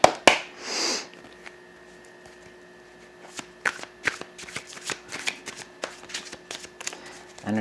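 Playing cards are shuffled in a series of quick riffling bursts and soft taps, close up, with a sniff near the start.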